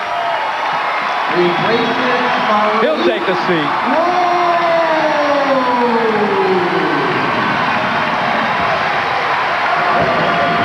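Basketball crowd at the 1996 North Atlantic Conference championship game cheering and rising to its feet for Malik Rose, a sustained roar filling the arena while a commentator talks over it and a siren-like whoop rises and falls.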